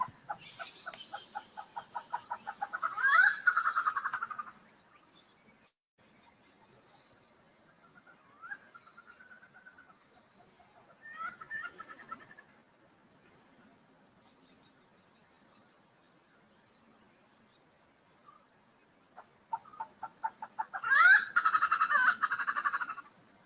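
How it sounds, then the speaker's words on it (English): A recorded bird's cackling, laughing call plays back faintly in rattling bursts at the start and again near the end, with weaker calls scattered between over a steady high hiss. "We are going to hear the call of the bird. It is a cackling, laughing sound."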